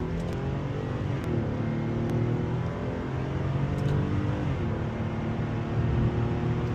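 An Infiniti G37 engine revving through gear shifts, heard from inside the car as a steady, loud, layered drone with rising harmonics that dips and climbs again as the revs change.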